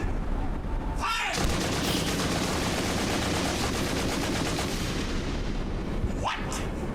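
Rapid gunfire and booming shots from a Warhammer 40000 animation, a continuous loud barrage of automatic fire filling the whole stretch, with brief swooshing passes near the start and end.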